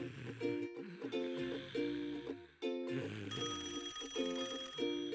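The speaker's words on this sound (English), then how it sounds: "You have a phone call." A cartoon telephone rings in a repeated, loud electronic ring pattern over a few seconds, with a brief gap midway and bright musical tones.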